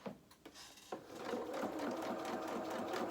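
A sewing machine stitches a dress toile, starting with a few clicks and short bursts before settling into a fast, even mechanical whirr with a rapid needle rhythm, close and fairly quiet, with no talking.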